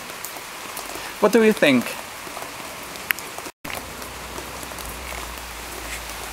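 Steady rain patters across an outdoor surface as a soft continuous hiss, while someone speaks briefly over it and a short whistle-like tone sounds near the start.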